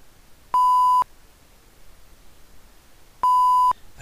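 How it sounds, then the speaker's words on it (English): Two identical electronic beeps from a FARO Focus laser scanner during scanning, each about half a second long, steady and clear, separated by a gap of roughly two seconds over faint background hiss. "I can toggle whether or not the scanner makes a sound during the scanning process."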